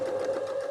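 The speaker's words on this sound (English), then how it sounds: "Let's sew up this waistband." Sewing machine stitching a waistband on an upcycled dress, a brief steady whirring motor hum at close range with no talking.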